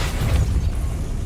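Depulso, a repelling spell in Hogwarts Legacy, fires with a loud booming whoosh, a dense low-heavy blast filling just over a second with no speech.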